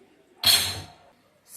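A new clay cooking pot holding fish curry with coconut oil and kokum gives one short, gritty scrape as it is swirled and set down on a stove. Brief quiet follows.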